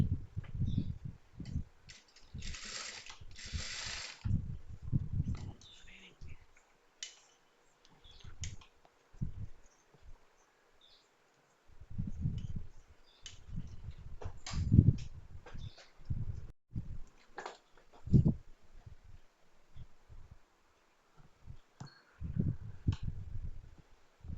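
A sewing machine stitches the folded quarter-inch hem of a baby girl's skirt-and-top outfit in several short mechanical runs, separated by brief pauses and a longer silence midway.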